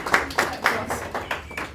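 Scattered audience clapping at an indoor gathering, a few uneven bursts of claps spread over under two seconds, fairly faint and thin rather than a full ovation.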